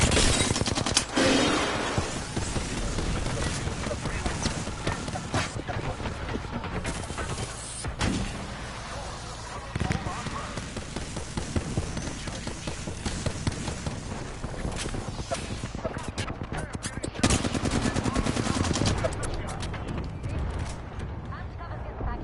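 Bursts of weapon fire in the Apex Legends battle royale game, with rapid shots and mechanical clatter running through much of the stretch while players talk over it.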